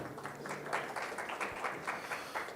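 Audience applause at a cardio-oncology symposium in a hotel hall after a case presentation, a short steady burst of many hands clapping, moderately close.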